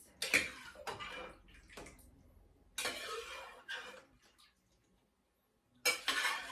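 Beans being stirred and mashed in a pot for refried beans, giving several loud bursts of scraping and sloshing separated by quieter pauses, with faint clinks between them.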